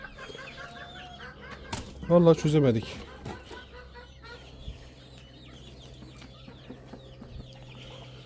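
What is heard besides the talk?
chickens clucking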